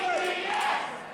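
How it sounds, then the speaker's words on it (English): Wrestling fans in an arena cheer and shout, a steady, fairly loud crowd roar with some high yells rising through it. "the fans cheering for Rick, trying to get him on his feet"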